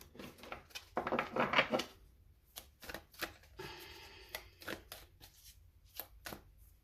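Rapid papery riffles and flutters of cards being shuffled, clumping rather than shuffling smoothly, followed by a series of sharp taps and soft slaps as the deck is handled.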